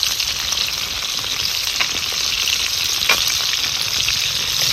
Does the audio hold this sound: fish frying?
yes